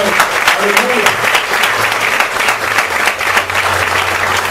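A church congregation applauds Jesus during a Sunday testimony service, with loud, dense, sustained clapping close by and voices speaking and calling out over it.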